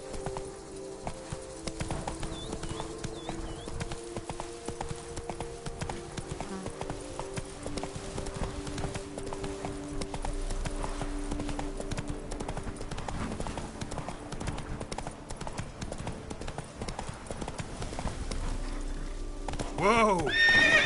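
Hooves of the horse Roach clip-clop steadily at a gallop in The Witcher, with an occasional whinny, under a continuous bed of game music and ambience, and a voice speaks briefly.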